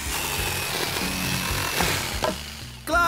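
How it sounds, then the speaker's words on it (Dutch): A jigsaw cuts through scrap wood along a marked line in a children's cartoon workshop, a steady rasping buzz at moderate volume with a sharper burst near the end, no talking. "Hier, zaag langs deze lijn."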